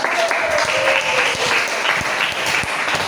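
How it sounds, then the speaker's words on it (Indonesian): Steady, dense clapping from a classroom audience after a student group presentation, close and continuous throughout with a faint tone running underneath. "Oke, kita beri tepuk tangan."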